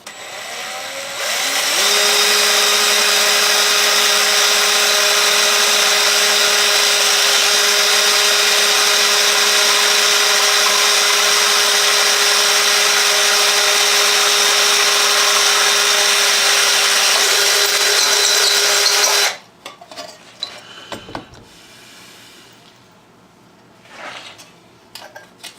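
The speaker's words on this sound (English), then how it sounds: "I'm going to drill a small hole through each and put a rivet from the inside to hold it together" A loud, steady high-pitched whine of a power drill drilling rivet holes in a switch panel, running continuously for about eighteen seconds, then stopping abruptly, followed by light handling clatter.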